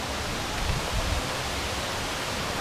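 Roar of the Paredão waterfall, a very tall waterfall, a steady broadband rush of falling water that holds constant throughout, close and loud with no speech.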